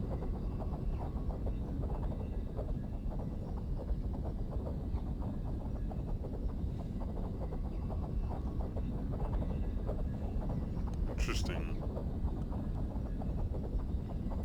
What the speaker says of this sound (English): Interesting engine noises.